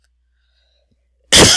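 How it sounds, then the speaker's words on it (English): One abrupt, loud cough from an adult bursts out after more than a second of near silence and is cut off as it ends. "Excuse my cough."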